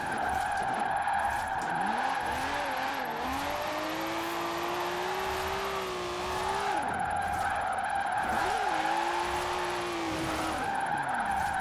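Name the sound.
car spinning out while drifting in Forza Horizon 4 video game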